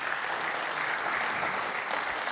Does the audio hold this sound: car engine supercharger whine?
no